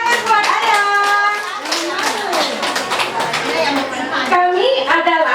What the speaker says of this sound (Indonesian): Oke, tepuk tangan buat ayam.